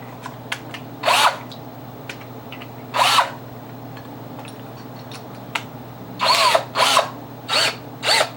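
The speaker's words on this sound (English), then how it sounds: "Got myself big beefy DeWalt cordless drill" A DeWalt cordless drill whirs in short bursts, five or six spins of about half a second each, with small clicks and handling noises in between, drilling out a coin door lock.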